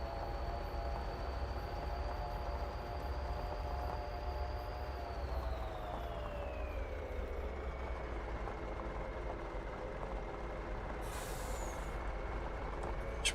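A freight train in Farming Simulator on the Iowa Plains View map rumbles past with a steady horn-like tone that slides lower partway through over a constant engine drone, ending with a short hiss.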